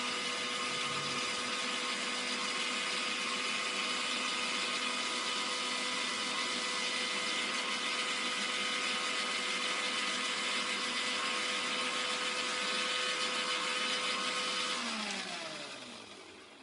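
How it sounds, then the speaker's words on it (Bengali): A kitchen blender whirs steadily, blending eggs and oil into homemade restaurant-style mayonnaise in a short burst of roughly twenty seconds, loud and continuous before winding down at the end. "আবার ব্লেন্ড করে নেব 20 সেকেন্ড।"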